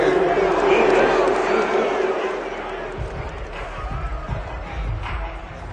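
A football stadium crowd reacts with a broad, sustained roar of disapproval after a penalty flag on third down, loud and continuous throughout, with deeper rumbling swells in the second half.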